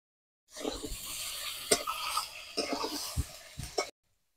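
Aubergine curry with mustard oil being stirred in a pan, giving a soft sizzle broken by a few sharp spoon scrapes and clunks against the metal, close and fairly quiet, with no one talking.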